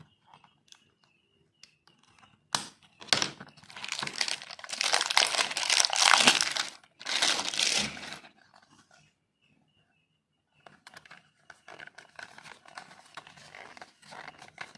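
Crinkly plastic seal packaging on a diecast Peugeot 505 model car being pulled and crumpled, loud close bursts of crackling and rustling, then quieter scattered handling noises after a pause.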